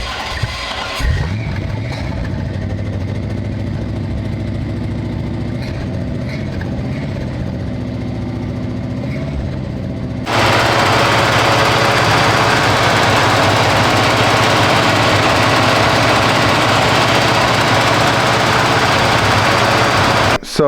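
A Chevy 350 V8 swapped into a 1972 Datsun 240Z rumbles with a rough, hammering idle, then jumps to a much louder, harsher roar about halfway through and holds it before cutting off abruptly.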